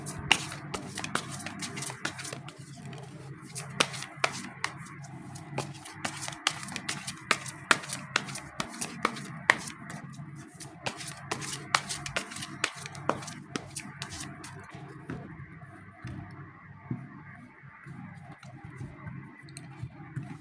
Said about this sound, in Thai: ขอรวมแล้วก็สับไพ่เลยละกันนะคะ